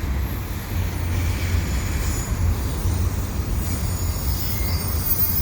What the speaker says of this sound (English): this westbound double stack train with the Dash 8 in it, which are pretty rare now